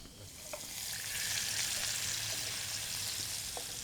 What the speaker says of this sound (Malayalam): മീൻ വറുത്തുകൊണ്ടിരിക്കുന്നു കേട്ടോ.